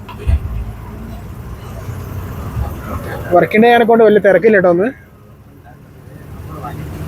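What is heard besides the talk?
bus driving into Kodaikanal bus stand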